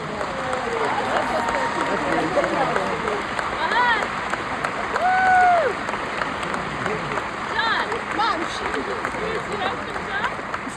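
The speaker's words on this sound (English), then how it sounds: "All of you, stand up and take a round of applause." An audience applauds at a family gathering, steady dense clapping and crowd noise lasting throughout, with voices and cheers mixed in.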